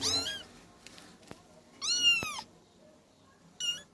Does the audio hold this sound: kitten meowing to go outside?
yes